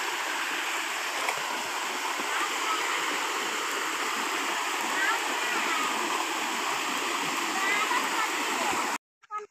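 Stream water flowing past on a farm, a continuous dense rush and splash that stays even throughout and then cuts off near the end, close and fairly loud.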